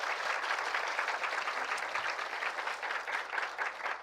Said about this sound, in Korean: 박수 한번 쳐줄래요?